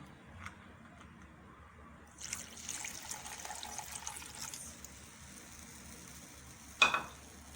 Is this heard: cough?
no